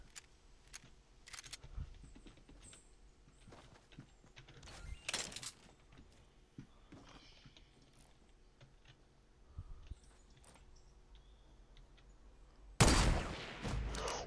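Enemy gunfire in Fortnite snaps in scattered, faint single shots, followed by a sudden loud, noisy blast near the end, over a quiet background without talk.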